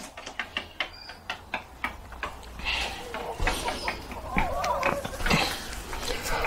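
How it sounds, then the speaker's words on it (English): Chickens cluck and peck close by in a rhythmic series of short bursts, followed by busier overlapping fowl sounds with a person talking over them. "Sharing a bit of space with the chickens,"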